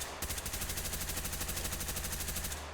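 Rapid burst of gunfire fired from the hip in the tactical shooter Ready or Not, a fast even string of sharp shots lasting a couple of seconds, loud and close with no talking.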